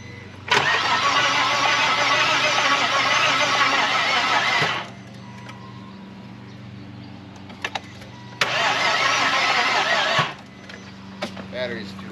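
A Saturn VUE's 3.0 engine cranks on a weak battery in two long, loud bursts of starter grinding, each about four seconds. The engine does not catch, and quiet pauses with faint clicks fall between the attempts.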